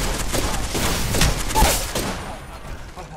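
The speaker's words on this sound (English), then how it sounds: "Taking fire." Gunfire in the battle royale game Apex Legends, a dense run of rapid shots over about two seconds, with a heavier thump near the end, then fading into quieter game ambience.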